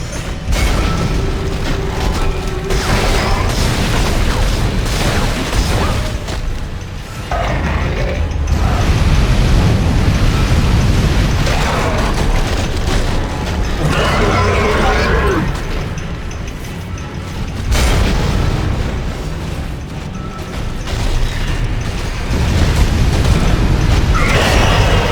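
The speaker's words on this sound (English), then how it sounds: "Alright, that's the other reason to use a flamethrower." A flamethrower firing in the video game Dead Space: loud, sustained roaring bursts with brief gaps, mixed with mechanical clanks and crashing game effects.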